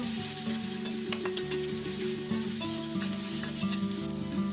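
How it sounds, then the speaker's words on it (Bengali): Onions, green chilies and chopped tomato sizzle steadily in hot oil in a wok, a dense continuous frying hiss close by with faint utensil clinks over a low background hum. "কড়াই গরম হওয়ার পর দিয়ে দিলাম তেল, তারপর দিয়ে দিচ্ছি পেঁয়াজ"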